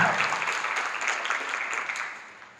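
Audience applause for panelists at an Epic Cons Chicago fan convention panel, a steady wash of clapping from a crowd that holds for about two seconds, then thins and fades.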